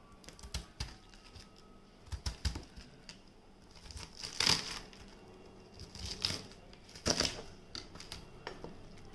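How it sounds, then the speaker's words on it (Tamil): A knife chops through half a purple cabbage on a board, making a run of crisp, irregular crunching cuts, some sharper and louder than others. "இப்போ நம்ம இந்த ஹாஃப் மட்டும்தான் நம்ம வந்து கட் பண்ண போகிறோம்."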